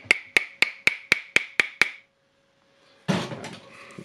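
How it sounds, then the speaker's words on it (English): A hammer gently taps an armature into a Makita SDS hammer drill, giving eight quick, evenly spaced sharp metallic taps up close. Silence follows, then a brief rougher clatter. "Let's hammer it gently."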